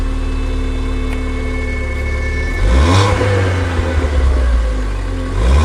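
A Mk 7 Ford Fiesta ST hatchback engine idles, then revs up sharply a few times, rising and falling in pitch, loud and close.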